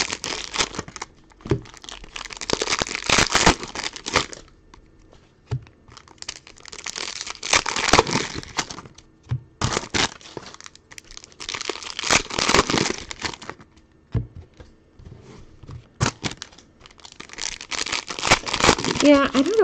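Plastic trading card pack wrappers crinkle and tear in repeated bursts of rustling, close to the microphone, separated by quieter pauses.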